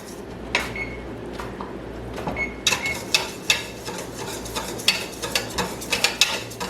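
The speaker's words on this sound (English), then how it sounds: "I'm going to keep stirring the whole time" A spoon stirring orange jelly made from concentrate as it foams at a full rolling boil in a pot, with repeated sharp scraping clacks over a low bubbling background and no talk.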